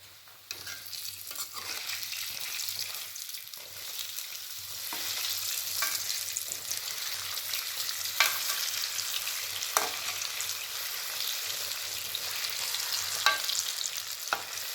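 Urad dal bondas crackle and hiss in hot oil with a dense, steady sizzle, broken by a few sharp clicks and scrapes as they are turned over, close and even throughout.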